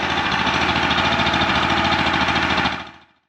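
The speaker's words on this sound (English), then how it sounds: "it sounds like it's idling real low" A Champion generator engine idles low with a steady, throbbing run close by, then cuts out and fades to silence after less than three seconds.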